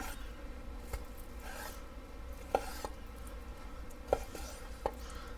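A $12 Forged in Fire branded kitchen knife slices through steak on a cutting board, giving soft scraping strokes and a few sharp close taps as the blade meets the board, with steady low background noise and no talk.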